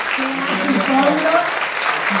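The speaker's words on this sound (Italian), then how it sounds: "Un applauso per Raimondo che è in fondo" An audience at the Teatro Giacosa in Ivrea applauds during a stage presentation, a steady wash of clapping that carries through the whole short stretch with a voice sounding over it.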